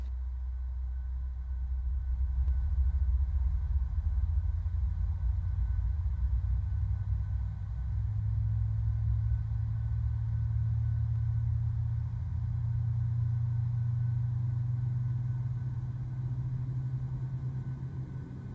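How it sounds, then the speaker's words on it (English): Engine number 2 of a PMDG Boeing 737-800 in Microsoft Flight Simulator 2020 spools up from a low rumble into a steady, rising drone that holds evenly throughout, with no talking. "that sounds like a good engine start from engine number 2"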